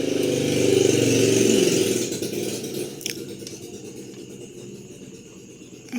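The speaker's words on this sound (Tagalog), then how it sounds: "May dumadaan man na motor, di bali isa lang yan." A single motorcycle passes on a nearby road during outdoor home cooking, its engine swelling loudly for about two seconds, then fading into lower background noise.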